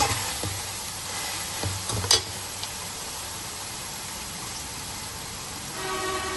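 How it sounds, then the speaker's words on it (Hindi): Chicken and peas fry in a pan for Chinese fried rice, giving a steady, close sizzling hiss with a few brief clatters near the start. "चिकन और मटरों को मैंने अच्छे से भून लिया"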